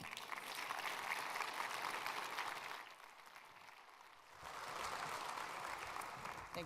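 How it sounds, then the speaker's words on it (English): Audience applause in a conference hall during a campus energy plenary session in Boston: dense, steady clapping that carries on throughout, dipping briefly in the middle before swelling again. "Let's give her a nice round of applause"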